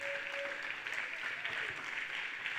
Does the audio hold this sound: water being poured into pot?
no